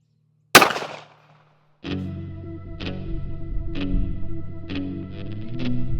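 A Kimber Micro 380 fires a single 90 grain Sig Sauer Elite Performance V-Crown round into ballistic gel, one sharp, loud crack that quickly decays to silence before a sustained tonal musical passage begins.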